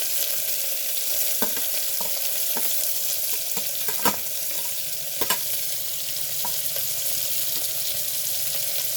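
Crushed garlic and chopped onions fry in hot oil in a pan, giving a steady bright sizzle with occasional stirring clicks and scrapes, close and alone without talk.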